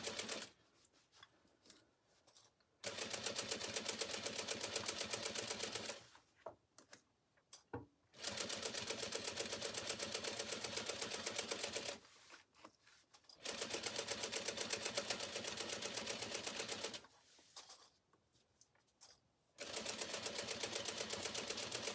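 A sewing machine stitches canvas for a tote bag in several long, steady runs, each lasting a few seconds and separated by short pauses, loud and close with no talking.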